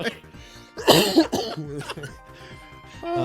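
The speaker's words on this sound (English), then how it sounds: "Sorry for coughing in your ears, guys." A person coughs hard a few times close to the mic, followed by a throat clear and some muffled breathing.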